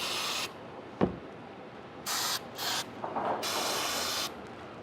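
Aerosol cleaner spray hisses in several bursts of varying length into a jammed Marlin 336 lever-action rifle, with a sharp click between them and quiet background noise in the gaps.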